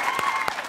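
Studio audience applause at a late-night talk show taping, steady dense clapping filling the short moment with a couple of louder bursts.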